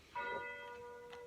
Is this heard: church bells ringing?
yes